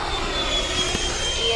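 A Freewing Typhoon 90mm EDF RC jet, rebuilt from two crashed airframes, makes a steady, loud ducted-fan whine with a high, sustained pitch as it passes nearby in flight.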